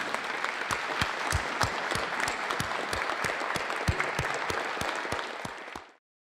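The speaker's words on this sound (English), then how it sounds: "please stand so we give you a nice round of applause" An audience gives a round of applause for scholarship recipients at a leadership awards event, dense steady clapping with a few sharp nearby claps, ending abruptly.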